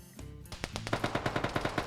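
Rapid automatic gunfire in a video game match, a short burst building into a steady, evenly spaced stream of loud shots with no voices.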